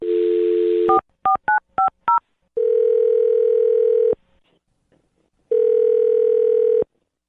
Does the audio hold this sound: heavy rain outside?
no